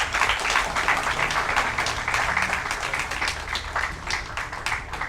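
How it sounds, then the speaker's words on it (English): An audience applauds contestants at a math bee grand final in Telangana, a full, steady round of clapping that stays fairly loud for several seconds. "So please give them all a huge round of applause."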